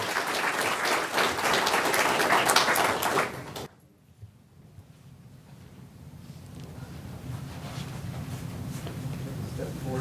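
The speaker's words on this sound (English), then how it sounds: "let's have a round of applause for Dylan Polk from North Gaston High School" Loud applause from a crowd for a few seconds, then it cuts off abruptly, leaving quieter background noise and faint murmuring.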